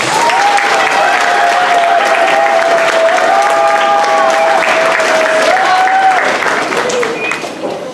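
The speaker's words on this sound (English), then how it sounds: "Let's give them a round of applause." A school audience gives a loud, sustained round of applause for parent volunteers at a 5th and 6th grade moving-up ceremony, dense close clapping that tapers slightly at the end, with some voices in the crowd.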